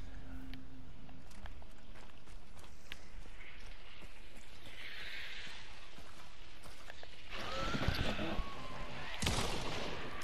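Gunshots in the video game Hunt: Showdown, a few faint distant cracks early on, then louder bursts near the end over quiet game ambience.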